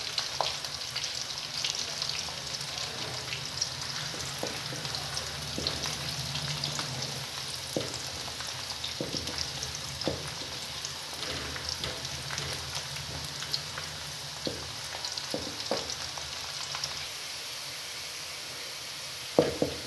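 Onions browning in a pot of oil for whole masoor dal, a steady dense sizzle with occasional stirring scrapes and small pops, continuous and fairly close throughout.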